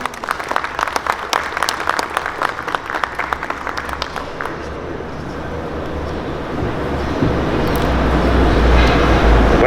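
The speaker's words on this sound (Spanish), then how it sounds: "Recibamos al licenciado Ramón Rodríguez con un fuerte aplauso." Audience at a foreign trade forum, Expo Carga 2019 in Mexico, applauds to welcome a speaker, crisp clapping for several seconds that thins into a low rumbling room noise rising toward the end.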